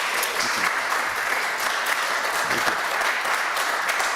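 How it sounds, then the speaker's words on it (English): Sustained applause from an audience at a Sunday forum gathering, a dense steady wash of many hands clapping close by for the full length without pause. "Let's have a nice round of applause for Jason."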